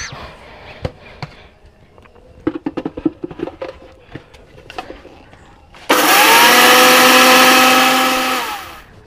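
Sago pearls (sabudana) being ground to powder in a blender: a few clattering knocks and handling taps, then the motor starts loud and whirring with the grains rattling, holding steady for about three seconds before winding down.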